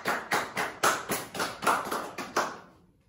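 Students in a classroom clap together in a steady rhythm of about ten distinct, fairly quiet claps that fade out at the end.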